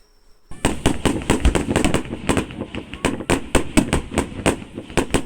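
Fireworks burst continuously after a brief silence at a summer festival in Tsuyama, Japan, a rapid, dense crackle of sharp bangs and pops, loud and nonstop.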